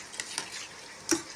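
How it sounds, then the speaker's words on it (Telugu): A spoon stirs chili powder into a simmering goat head curry, giving a few soft scraping strokes against the pot over a low frying sizzle, close and quiet, with no talk. "ఆ తర్వాత బాగా కలుపుకొని"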